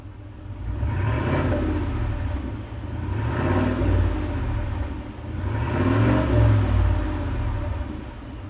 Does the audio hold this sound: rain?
no